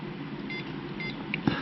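A prototype tow remote gives a few short, faint electronic beeps, spaced about half a second apart, over a low steady background hum, ending with a soft click.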